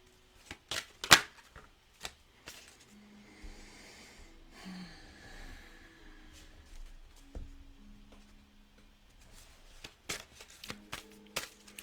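Cards are handled and shuffled for a card reading, giving scattered close snaps and flicks, with a few sharp card slaps early on and soft rustling in between.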